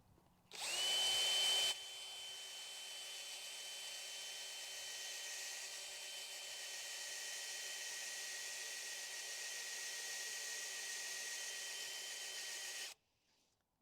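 A small power auger drills into garden soil for planting small annuals, a steady, high-pitched whirring motor running continuously for about eleven seconds, close and fairly loud, then stopping abruptly.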